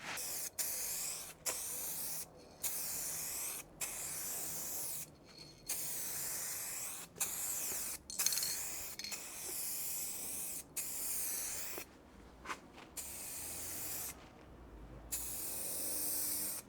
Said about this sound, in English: you spray up, come off, push down, spray on.